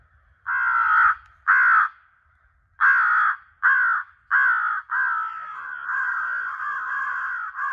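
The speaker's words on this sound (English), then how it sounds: "15 crows above us, and they were down in this like little channel here" Several crows caw repeatedly overhead during a crow hunt, loud harsh calls in short bursts that then run together into a longer sustained cawing.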